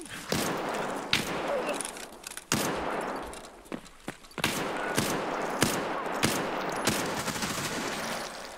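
Gunfire in Escape from Tarkov, a series of sharp, loud shots in irregular bursts, some rapid and clustered, others single, with thuds and movement between them and little talk.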